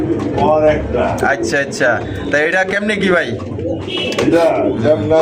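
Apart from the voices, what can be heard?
fancy racer pigeons cooing at a pigeon market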